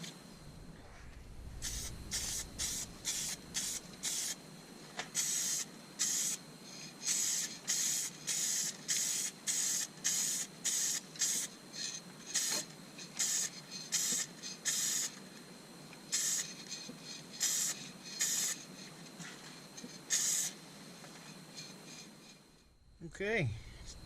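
Hampshire Sheen Professional Clear Gloss Lacquer sprayed onto a turned Banksia vase, heard as a long series of short, regular hissing bursts, close and steady over a faint background hum.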